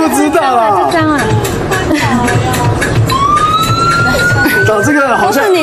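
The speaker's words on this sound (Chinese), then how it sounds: "救护车" An ambulance siren wails with a rising, sweeping tone, nearby and prominent over a room full of overlapping chatter during a mahjong game.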